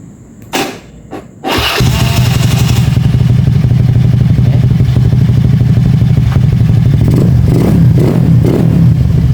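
A motorcycle engine fires up by remote after two short clicks, then settles into a steady, loud, close idle that runs on with a rough, even putter.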